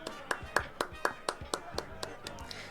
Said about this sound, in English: Let's get a round of applause for Kane.